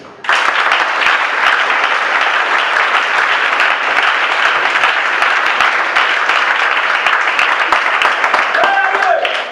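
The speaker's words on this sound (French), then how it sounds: "Acclame Jésus-Christ." A church congregation breaks into loud, sustained applause during a sermon, with dense steady clapping from the whole room and voices mixed into it, running nearly ten seconds before it tapers at the very end.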